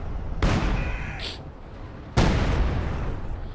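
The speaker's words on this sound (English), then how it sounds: "Another artillery barrage here forces another squad of Alastors on the retreat." Artillery barrage in Company of Heroes 2, a World War II strategy game: two heavy shell impacts strike about two seconds apart, each a sharp loud blast trailing into a rumbling roar, with a short whistle before the first.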